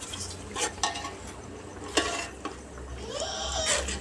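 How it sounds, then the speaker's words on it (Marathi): Rice being stirred in a pot just off the gas for an egg rice biryani, giving a few soft scraping and clinking strokes over a low steady background hum, close by with no talking. "अशा ह्याच्यावर आपल्याला तांदूळ गॅसवरून तांदूळ उतरवून घ्यायचे आहे. थोडंसं हलवून घ्यायचं आपल्याला."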